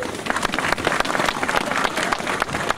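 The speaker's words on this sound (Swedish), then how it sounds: "Kan man inte få en applåd för det då?" An audience applauds at a 50th-anniversary celebration of the OKG nuclear plant in 2015, a lively burst of many hands clapping with sharp individual claps standing out, continuous and fairly close with no talking.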